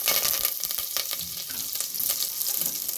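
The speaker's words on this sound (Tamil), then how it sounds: "எண்ணெய் காஞ்ச உடனே ரெண்டே ரெண்டு காஞ்ச மிளகாவை போட்டுக்கோங்க கருவேப்பிலை கொஞ்சம் போட்டுக்கலாம்" Dried red chillies and curry leaves crackling in hot oil for a bitter gourd curry tempering, a close steady sizzle with a few sharp pops and light stirring, no talk.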